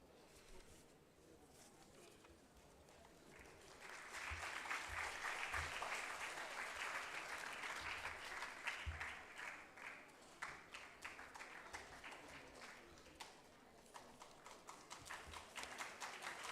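Applause from an audience at a National Sports Day ceremony honoring hockey legend Dhyan Chand, swelling from faint to a steady, dense clapping that carries on at a distance.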